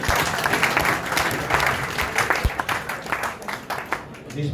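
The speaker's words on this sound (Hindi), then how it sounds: "अरे तालियां क्यों बंद हो जाती हैं?" Crowd applause at a BJP office-taking ceremony for a newly appointed district president in Hisar, India: a dense, sustained wash of many hands clapping, loud and steady, fading slightly toward the end.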